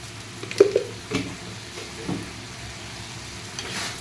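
Crispy chilli baby corn is stirred in a frying pan, a few clear scraping strokes of the spatula over a steady low sizzle, close and fairly loud with no talk.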